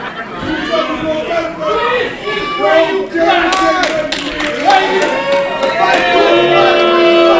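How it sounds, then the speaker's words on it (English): A wrestling arena crowd roars with sustained noise and scattered claps, loud and continuous throughout, with a commentator's voice talking over it. "instead he's being showered with boos"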